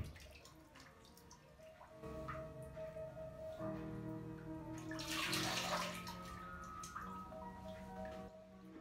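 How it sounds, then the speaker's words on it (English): Ceramic glaze is poured around a large fermentation pot, a continuous liquid trickle and splash that swells into a louder gush midway and then settles, close and with no talk over it. "I'm just going to pour the glaze"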